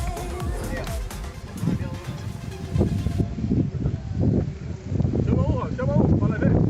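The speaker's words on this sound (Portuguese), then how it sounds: "O vento tá muito forte, mano." Strong gusting wind buffets the microphone on a rooftop slab during a kite-flying session, a rough rumbling roar throughout, with people talking over it.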